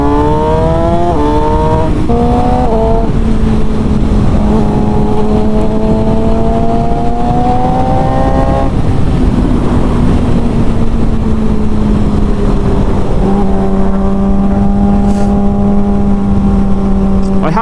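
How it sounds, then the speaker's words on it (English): A Suzuki GSX-R 600 K7 motorcycle built as an Isle of Man TT special revs hard in second gear, its loud close engine whine climbing steadily in pitch, dipping at gear changes, then rising again. "So this is second gear, and I'll just wind it on very quickly."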